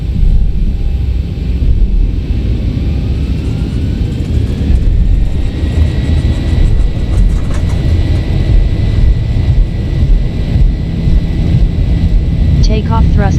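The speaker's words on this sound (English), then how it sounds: "Takeoff thrust set." Boeing 737 jet engines in a flight simulator spool up to takeoff thrust, a loud steady roar with deep rumble filling the whole stretch and a brief click near the end.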